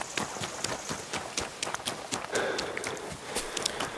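Horse hooves clip-clop in the medieval game Kingdom Come 2, a steady run of sharp, close hoof knocks over a soft ambient background, with no talking.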